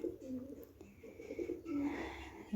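Pigeons nesting on a balcony coo softly in low, throaty, rolling calls, close by and repeated over a quiet background.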